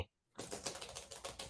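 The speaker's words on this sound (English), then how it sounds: "That's his keyboard." Rapid clicky typing on a computer keyboard in a home office setting, a steady run of close, crisp keystrokes after a brief silence.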